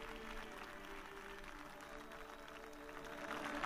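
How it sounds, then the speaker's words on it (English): Faithful gathered at the Vatican for the Way of the Cross applaud Pope Francis, producing steady, faint, distant clapping from a large outdoor crowd. "The faithful gather now applauding"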